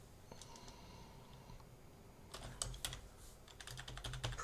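Typing on a computer keyboard, quiet and close, with a few scattered key taps followed by quicker clusters of clicks toward the end.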